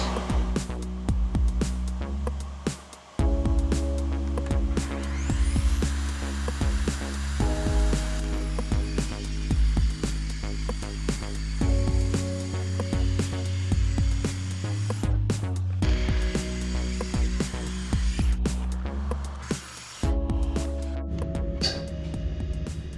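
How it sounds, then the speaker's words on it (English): A saw cuts wood at its top speed, a loud, sustained mechanical drone with harmonic whine that shifts pitch as the blade loads and briefly drops off a few times. "This is what a saw looks like at its absolute max."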